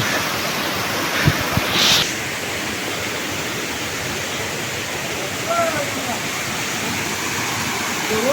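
Water rushes down a mountainside in Darjeeling, a steady, broad hiss that stays loud and unchanging throughout, with a brief knock and faint voices over it.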